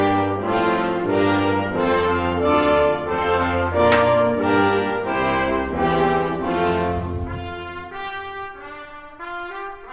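The Promenade from Mussorgsky's Pictures at an Exhibition, a stately, dense chordal passage played continuously with full sustained harmonies, moderately loud and even throughout.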